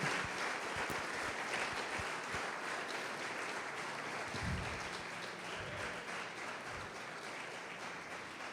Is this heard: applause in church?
yes